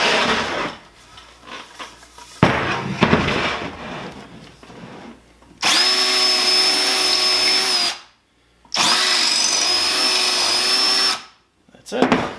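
A power drill bores a wider hole through wood in two long, steady, loud whining runs separated by silence, with speech and handling noises before them.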